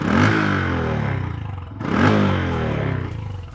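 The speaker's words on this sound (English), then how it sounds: "And here's what the exhaust note sounds like." Motorcycle exhaust from a light bike of about 124 kg, revving twice in quick succession, each blip rising sharply in pitch then settling into a steady, close, fairly loud drone with no talking.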